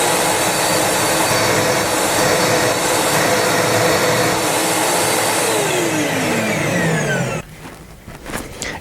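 A Nilfisk workshop vacuum cleaner running loud and close, a steady broad roaring whoosh with a falling whine as the motor winds down, then an abrupt cut to quieter handling noises and knocks.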